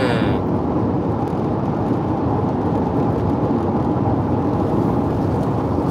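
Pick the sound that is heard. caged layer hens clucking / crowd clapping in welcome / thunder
thunder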